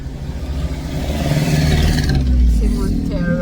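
Mitsubishi Montero SUV driving along a residential street, its engine rising to a rumbling pass close by before fading, with a person talking over it.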